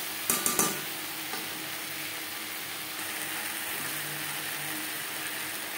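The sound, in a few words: stirring eggplant, potato and spices for fish curry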